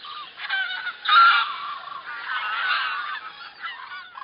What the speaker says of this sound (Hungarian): Na, most a libák fognak bemenni elé.